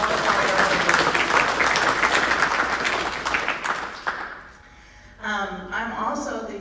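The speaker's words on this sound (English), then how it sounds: "let's give these guys a great big round of applause." A school academic awards night audience breaks into dense, steady applause that fills the room for about four seconds, then fades out before a speaker's voice takes over.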